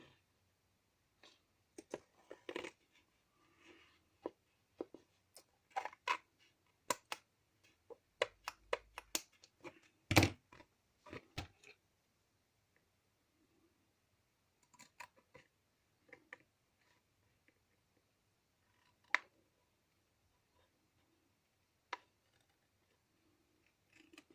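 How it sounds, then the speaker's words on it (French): Large scissors cut paper up close in quiet, scattered snips and clicks, busiest at the start and thinning out toward the end. "est-ce que je vais faire avec les grands ciseaux?"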